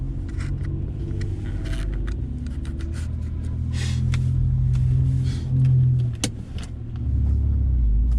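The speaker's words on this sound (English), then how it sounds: "Car coming." A car approaching on a desert dirt road in Death Valley during a four-wheeling trip, a steady low engine rumble that swells and peaks near the end, heard from inside a moving vehicle without talk.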